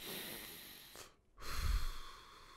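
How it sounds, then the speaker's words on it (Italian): A person draws and releases a slow, deep breath during a pause in conversation, a soft airy exhale standing alone before quieter noise. "facciamo un piccolo respiro, entrambi"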